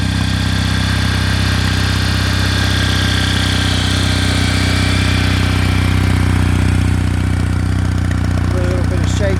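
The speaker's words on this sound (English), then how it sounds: "The motor's nice and quiet, but you can hear just a little whir from those pinion gears." A Kawasaki W800 motorcycle engine idles steadily and quietly up close, with a faint mechanical whir from the pinion gears running underneath the low, even rumble throughout.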